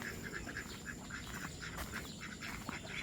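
Crested ducks quack repeatedly at a moderate distance, short nasal calls in loose bursts over a soft outdoor background just after light drizzle.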